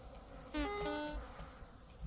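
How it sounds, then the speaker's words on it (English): Bees buzzing in the survival video game Vintage Story, after a hive is broken in leaves: a short, fairly faint buzzing burst with a steady hum that lasts about half a second and then fades, against a quiet background. "I hear bees."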